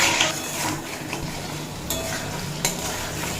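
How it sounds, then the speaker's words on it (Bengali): Vegetables sautéing with spices in a pan for vegetarian Gobindobhog rice khichuri, a steady close sizzle with occasional scrape and clink of a spoon. "মশলার সঙ্গে সবজি খুব ভালোভাবে কষিয়ে নেওয়া হয়ে গেছে"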